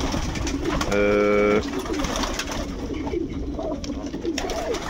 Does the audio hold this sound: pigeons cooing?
yes